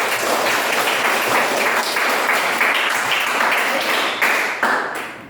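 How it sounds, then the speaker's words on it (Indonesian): Students in a classroom applaud after group presentations during a science lesson, a dense, fairly loud burst of many hands clapping that holds steady before tapering off near the end. "Tepuk tangan sekali lagi untuk"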